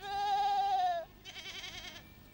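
Saanen and British Alpine dairy goats bleating, two drawn-out wavering calls close by, the first long and loud, the second shorter and rougher.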